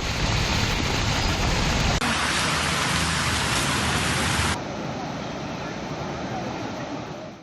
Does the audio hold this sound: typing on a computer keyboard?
no